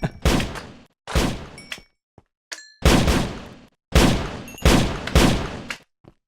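Gunshots fire from a Minecraft Immersive Engineering mod weapon, six loud, booming blasts spaced roughly a second apart, each with a decaying tail, interspersed with small metallic clicks.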